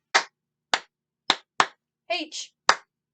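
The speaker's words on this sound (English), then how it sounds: "So now we have 1, 2, 3, 4 times we have to clap." Hands clapping along to a children's song about Earth: six sharp, separate claps at uneven intervals, close and loud, with a short spoken syllable between the fourth and fifth claps.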